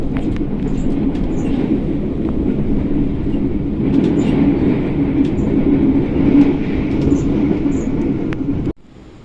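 Inside the Senja Utama Jogja passenger train, a steady loud rumble and rolling hum carry on with faint rhythmic clatter, then cut off abruptly near the end.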